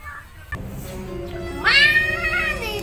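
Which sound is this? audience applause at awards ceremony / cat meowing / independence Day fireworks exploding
cat meowing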